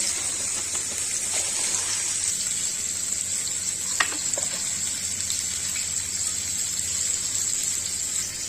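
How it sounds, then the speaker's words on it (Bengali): A fish head fries in a pan with a steady high sizzle, broken by one brief clink partway through. No one speaks. "মাছের মাথাটা ভাজতে কিছুটা সময় লাগবে"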